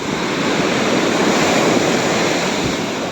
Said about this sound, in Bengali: দেখতে পাচ্ছ এখানে বড় বড় ঢেউ আসছে গো,